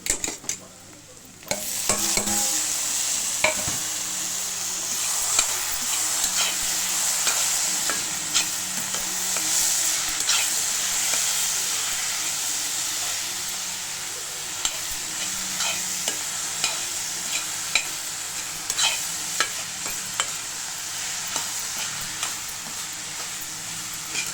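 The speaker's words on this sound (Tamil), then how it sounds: "இப்போ பாருங்கள் நல்லா தக்காளி வதங்கிட்டு வெங்காயம் வதங்கிட்டு" Onions and tomatoes sauté in a pan with a steady, bright sizzle, while a spatula scrapes and taps the pan at irregular intervals, close and continuous, with no talking.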